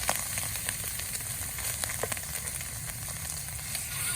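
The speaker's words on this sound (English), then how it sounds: "now what we want to do is get the other side seared." A Wagyu ribeye steak sears loudly in a hot pan, a dense continuous sizzle and spatter with sharp crackling pops scattered across it, close and alone without talk.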